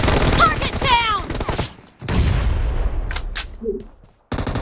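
Bursts of gunfire in a video game team deathmatch, loud and close, in rapid clusters with a booming crack near the middle, and voices talking over parts of it.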